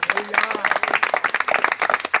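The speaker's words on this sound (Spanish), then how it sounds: "Dale un aplauso" A church congregation claps during a Spanish-language service, a quick burst of rhythmic hand claps over which a voice keeps talking.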